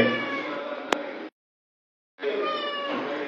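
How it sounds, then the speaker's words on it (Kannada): A cat meows at a back grill door of a house in the morning: two close, clear meows separated by a short silence, with a faint tick between them. "ಬೆಳಗ್ಗೆ 7 ಗಂಟೆಗೆ ಬೀದಿಯಲ್ಲಿರುವ ಯಾರೋ ಸಾಕಿದ ಬೆಕ್ಕು ಬಂದು ಮನೆಯ ಹಿಂದಿನ ಗ್ರಿಲ್ ಬಾಗಿಲಲ್ಲಿ ನಿಂತು ಮಿಯಾವ್ ಎನ್ನುತ್ತದೆ"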